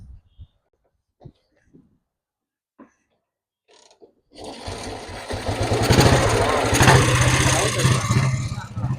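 A 70-year-old BSA motorcycle in Jaffna starts up after a few quiet clicks and knocks, then settles into a loud, steady idle with rapid regular engine pulses. Brief voices are heard before it starts.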